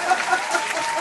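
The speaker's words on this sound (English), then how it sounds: "And again with the claps" A short burst of hand clapping, a dense, steady patter of claps lasting about a second, fairly close and moderately loud.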